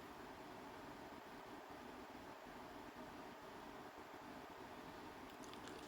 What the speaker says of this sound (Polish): wentylatory na tych najwyższych obrotach pracują już nieco głośniej